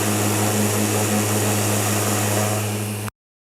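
A loud, steady pressure washer roar with a strong low hum and hissing spray noise, jet washing mountain bike ball bearings, continuous and close, cutting off abruptly near the end.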